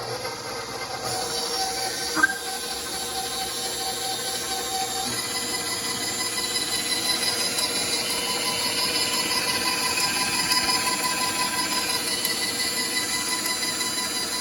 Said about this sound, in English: we're just going to let it knead the dough until we have a nice elastic dough